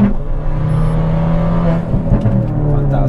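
A Ford Fiesta ST200 engine revs hard and steadily up close, its loud exhaust drone broken by a few sharp pops and crackles toward the end.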